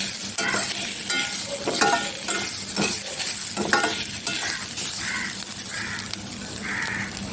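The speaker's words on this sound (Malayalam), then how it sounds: "തേങ്ങ ഇട്ടതിന് മിക്സാക്കി ഇത്തിരി ജീരകം ഇടാം. ജീരകം നന്നായിട്ട് മിക്സാക്കി കൊടുക്കാം." Grated coconut and cumin stirred in a hot pan for Kerala erissery, with close spatula scrapes and taps over a soft, steady sizzle.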